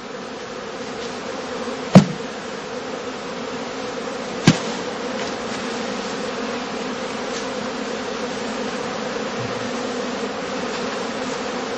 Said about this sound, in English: He calms the bees with smoke from the beekeeper's pipe.